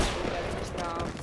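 Rapid gunfire from a Fortnite match, a dense, loud burst of overlapping shots filling the whole moment.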